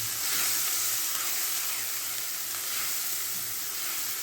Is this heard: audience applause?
no